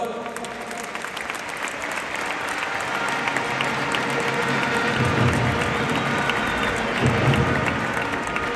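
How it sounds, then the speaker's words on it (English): Steady, loud crowd applause for two young talents at a stadium event, a dense wash of clapping with a few cheers that swells slightly midway and keeps going throughout. "Let's clap our hands for the young talents."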